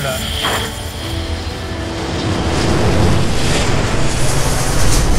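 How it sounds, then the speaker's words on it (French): Jet aircraft taking off, heard as a loud, steady engine roar that swells and grows heavier over a few seconds, with people talking over it. "Allez, ça décolle."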